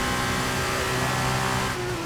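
A Formula 2 race car in F1 23 roars steadily at high revs, its engine note climbing smoothly and loud throughout with no talk.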